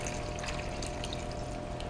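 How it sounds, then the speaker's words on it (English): Room temperature water pouring steadily into a container of lettuce leaves, a continuous close rushing sound with no talking. "And I just have some room temperature water. Like I said, not really hot, not really cold, just right in the middle there. And we're going to fill it with water."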